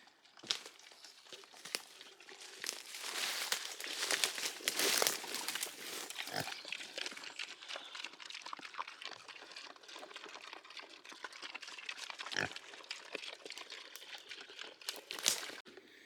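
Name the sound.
pigs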